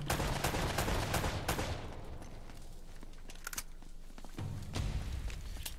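Bursts of video game gunfire in Uncharted 1, with rapid shots clustered at the start and scattered reports later, over a game soundtrack.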